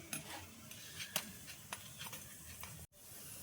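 Besan churma laddu dough fries in ghee on a tawa with a quiet, steady sizzle, broken by a few light scrapes and taps of a spatula before a brief cut.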